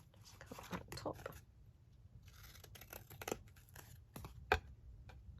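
Scissors snip across the top of a paper tag for a junk journal, giving a few quiet, close crisp cuts with soft paper rustling between them, without speech.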